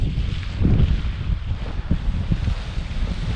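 Strong wind buffets a paraglider being ground handled, rumbling loud and close against the microphone in continuous gusty roars.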